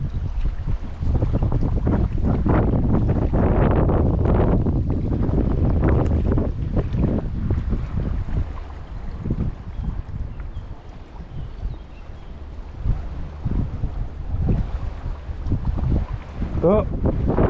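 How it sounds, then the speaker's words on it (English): Strong wind buffets the microphone beside Ladybower reservoir in Derbyshire, a steady roaring rumble with gusty surges throughout, loud and close, with a brief voice near the end. "it's a bit windier than I expected"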